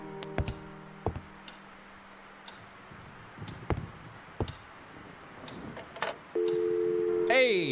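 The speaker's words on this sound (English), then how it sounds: "Let's see if my phone line's back." Telephone line in the horror video game Scratches: scattered clicks and taps, then a steady, loud dial tone arrives near the end.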